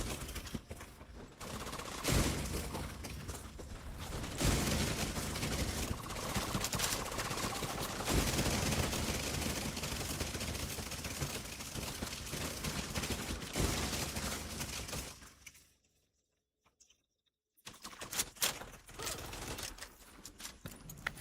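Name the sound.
gunfire in a video game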